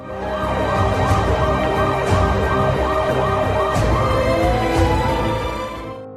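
An ambulance siren wails in a repeating rising-and-falling cycle, loud and close, sustained throughout with no talking over it.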